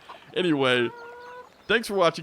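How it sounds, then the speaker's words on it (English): Chickens cluck in the video game Farming Simulator 17, a short burst of bird calls followed by a second cluster about a second later, with someone talking over the end. "don't know why anybody has chickens close to their house, because that noise is really annoying."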